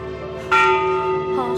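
A single temple bell at Wat Phra That Hariphunchai in Lamphun, Thailand, is struck once, ringing out with a sustained metallic hum that lingers and slowly fades.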